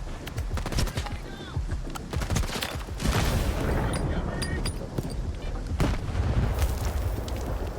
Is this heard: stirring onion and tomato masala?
no